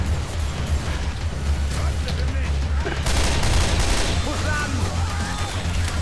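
Rapid gunfire in the Left 4 Dead video game crackles in dense bursts over steady low mechanical droning, with a heavier volley about halfway through.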